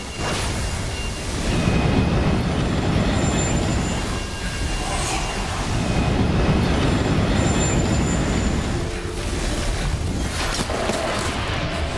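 Train from the video game Borderlands 3 rumbling steadily for about twelve seconds, with a loud low roar swelling in waves and faint high metallic squeals of wheels on rails, no voices.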